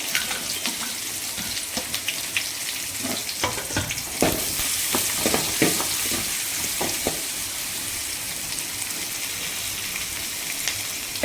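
Garlic, curry leaves and onions frying in hot oil for a Manathakkali keerai dish, a steady close sizzle with occasional stirring scrapes and faint water splashes, no talk.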